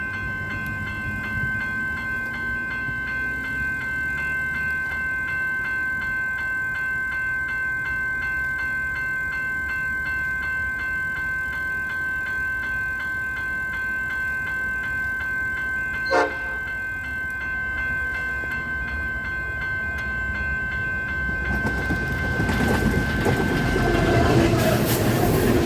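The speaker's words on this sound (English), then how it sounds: "Train just came through. Pretty decent pace as well." A diesel suburban train's horn sounds steadily as it rumbles past at a decent pace near Melbourne, a sharp squeal or clank cutting in midway, then loud rolling wheel noise building at the end.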